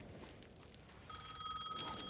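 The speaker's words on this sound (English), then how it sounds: "The payphone was ringing again." A payphone rings in the video game Alan Wake 2, its steady electronic bell tone beginning partway through and sounding clear and close over a low ambient background.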